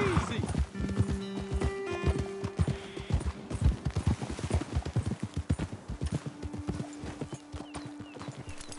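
Horses ridden in Red Dead Redemption 2, with dense rapid hoofbeats close by, a whinny early on, and people talking over the galloping.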